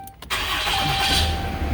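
A diesel truck with an under-boost fault and no power cranks briefly, then fires up and settles into a loud, steady idle close by.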